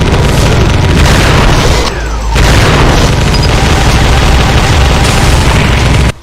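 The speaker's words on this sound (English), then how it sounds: "Its weakest but nonetheless strong attack is the legendary plasma projectiles that go straight, and also an explosive plasma projectile." Explosive plasma projectiles in a Doom mod blast nonstop in a dense, loud wall of booms and bursts, with a short dip midway and a sudden stop at the end.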